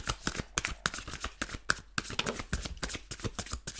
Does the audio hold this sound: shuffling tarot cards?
yes